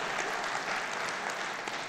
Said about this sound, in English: That is worth applauding